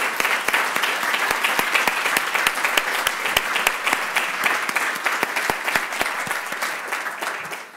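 A conference audience at a EUnetHTA event gives sustained, even applause, many hands clapping together at close range with a few sharp individual claps standing out, continuing for the whole stretch without talk.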